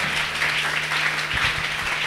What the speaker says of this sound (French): Acclame le Seigneur très fort.